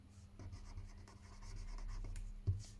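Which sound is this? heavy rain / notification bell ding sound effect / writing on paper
writing on paper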